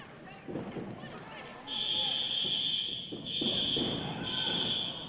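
A fire alarm sounds at a wrestling event, a shrill high electronic tone sounding in long bursts with brief gaps, mixed with crowd noise and commentators talking over it.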